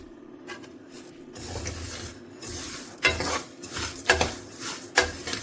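Peppercorns and spices shallow-frying in a pan, dry rattling and scraping stirs that grow busier partway through, with sharp clinks of a spoon against metal over a low background hum, close and without talk.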